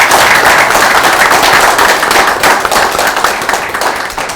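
An audience at a Korean political panel discussion bursts into dense, sustained clapping that fills the room, loud and close, slowly tapering off over a few seconds.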